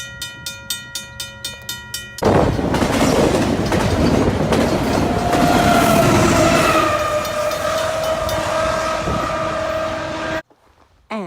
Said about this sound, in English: we have a CN Intermodal Train coming